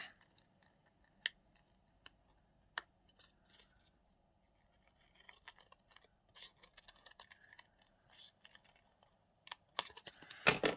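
Small scissors snip through paper in quiet, sharp clicks, sparse at first and then quicker and busier toward the end, close up.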